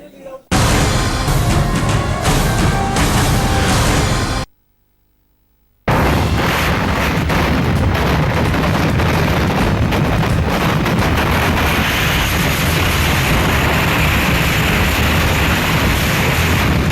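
A loud, continuous roar of exploding fireworks and crackling blasts at a Kerala temple fireworks stockpile, broken by a brief silence, then resuming as a dense, rumbling barrage.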